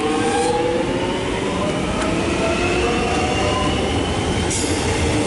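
A Melbourne suburban train pulls away from Epping station, a steady loud rumble of wheels and motor filling the whole stretch, with faint squealing and a few brief clicks.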